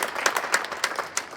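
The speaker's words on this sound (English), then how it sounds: "Clap it up for Hannah." A class audience gives a short burst of applause and clapping for a student in a basketball coaching lecture, with scattered hand claps standing out close by.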